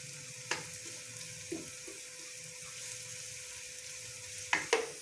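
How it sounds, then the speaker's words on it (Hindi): Onions fry in a pan for karela dal, a soft, steady sizzle with a few scraping stirs from a spoon, quiet and close, with no talking. "जब तक ये ब्राउन नहीं होते प्याज, तब तक इनको फ्राई करना है।"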